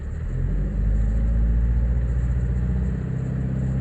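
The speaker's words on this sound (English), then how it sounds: "I'm going to rev the car and see what happens." Mazda car engine revved to around 2000 rpm, a steady close low rumble that swells slightly and holds, with no talking.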